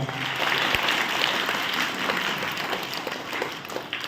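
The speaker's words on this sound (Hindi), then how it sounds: "ताली बजाओ बेटा" A group of children claps in a steady, dense patter at a patriotic recitation and song gathering, with the sound fairly close and continuing evenly for several seconds.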